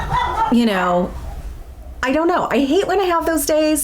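Dogs bark and yip intermittently indoors while someone talks over them.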